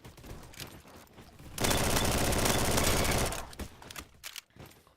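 MAC-10 submachine gun in the Roblox game Bad Business firing one continuous fast burst of rapid shots lasting under two seconds, loud and close, with scattered softer clicks and handling noises before and after.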